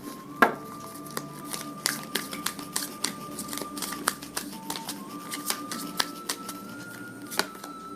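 Tarot cards are shuffled and drawn up close, a steady run of soft, quick flicks and taps over a faint background hum.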